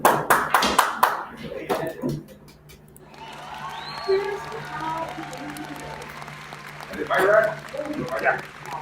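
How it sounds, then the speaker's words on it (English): A short burst of canned applause from a sound-effect button during a pool match at a bar, heard at the start and again later under a commentator's voice. "I'm getting pretty applause happy with that applause button."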